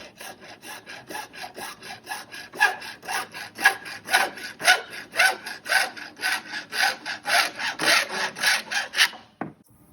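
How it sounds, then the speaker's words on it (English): A saw cutting through a plastic U-channel filter frame, with quick even back-and-forth strokes, loud and close, stopping just before the end. "Next, you can cut the channel using a hacksaw, a bandsaw, table saw, multi-tool,"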